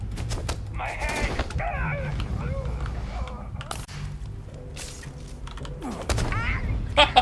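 Gunfire in the video game Starfield, with sharp bursts of shots cracking over game noise while voices speak and shout throughout.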